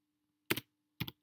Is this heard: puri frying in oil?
no